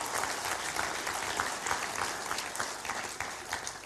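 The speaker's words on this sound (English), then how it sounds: "Give them a hand clap" A camp meeting audience applauds the sound and technical team with steady, sustained clapping from many hands, filling the whole stretch evenly at a moderate distance.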